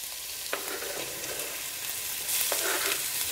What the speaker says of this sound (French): C'est quand on va faire roussir les oignons et les épices.